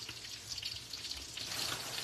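Shrimp egg foo young pan-frying in a scoop of oil gives a soft, steady hiss and sizzle throughout, fairly quiet and with no talk.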